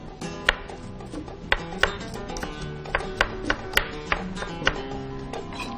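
Onion being chopped into small cubes with a knife on a cutting board: a steady series of sharp, close knocks, roughly two per second, with no talk.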